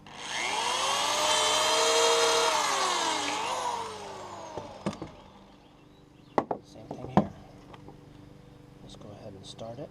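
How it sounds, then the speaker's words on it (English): Power drill whirring up and winding down while starting holes in wood for deck shelving, a loud rising and falling motor whine followed by knocks and clatter of handling, with a person talking nearby. "So I'm going to start some holes here."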